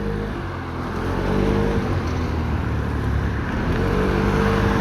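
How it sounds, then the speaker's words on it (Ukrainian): A Suzuki Lets scooter with a four-stroke engine accelerating, a loud steady motor drone that rises in pitch as it gains speed, heard close up with wind noise. "Ну, хоч і чотирьохтактний двигун, але набирає він"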